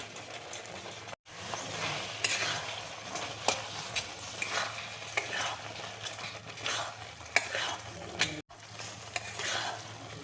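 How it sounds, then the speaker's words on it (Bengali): A spoon stirs egg keema curry frying in a pan, giving repeated scraping and stirring strokes over a soft, constant sizzle, with a couple of brief pauses. "এবার আমি ডিমের কিমাটা দেখো দিয়ে দিচ্ছি।"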